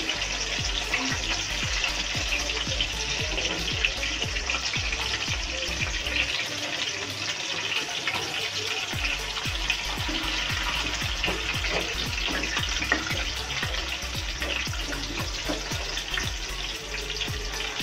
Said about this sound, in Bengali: হ্যাঁ, আমি ভালোভাবে একটু ভেজে নিচ্ছি